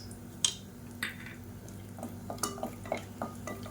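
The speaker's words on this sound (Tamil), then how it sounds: "நல்லா பொரியட்டும்." Faint, scattered pops and crackles of cinnamon, cardamom and cloves frying in hot oil in a pressure cooker for chicken biryani, with occasional soft clinks over a low steady hum.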